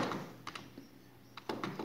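Light typing on a computer keyboard, a few quiet clustered keystrokes close by with short pauses between them.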